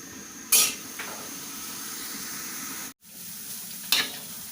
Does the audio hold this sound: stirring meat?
yes